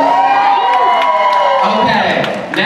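An audience at a 2018 annual university drag show in Western Connecticut screams, whoops and cheers in a loud, sustained roar of many voices.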